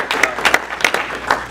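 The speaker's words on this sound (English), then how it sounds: "Let's give them a big round of applause." A room of people at a Rotary Club meeting applauding, a brisk patter of close, fairly loud hand claps over a short stretch, with a voice mixed in among the clapping.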